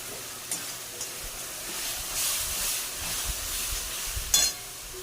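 Salt and spices stirred in a hot frying pan, a steady sizzle with scraping strokes and a few clicks of the spoon against the pan.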